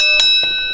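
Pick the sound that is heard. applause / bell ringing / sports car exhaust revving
bell ringing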